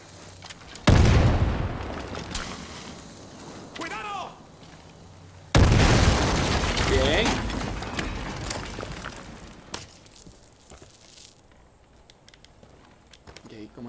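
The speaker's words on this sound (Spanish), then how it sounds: "La explosión está en chula." Explosions in Far Cry 5 on PS4: two loud booms a few seconds apart, each rolling off into a long rumbling tail, with smaller pops and quieter game sounds between them.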